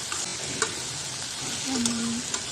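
Okra (ladies finger) curry frying in a pan and being stirred, a steady close sizzle with occasional scrapes of the spoon and a short tonal squeak near the end.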